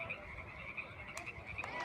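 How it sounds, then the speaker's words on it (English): Frogs croaking outdoors near a high school soccer match, a dense continuous chorus of faint, trilling calls in the background with no voices over it. "The frogs seem to agree behind us."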